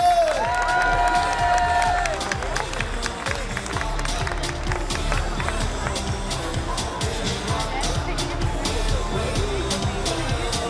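An audience at a women's fair cheers and applauds for a group of children, with steady, dense clapping and crowd noise that continues unbroken from start to finish.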